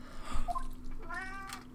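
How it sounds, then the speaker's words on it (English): A real house cat meows close by, two or three short, bent, plaintive calls in quick succession over a faint steady hum from game background sound. "Okay, hello cat, your timing is impeccable."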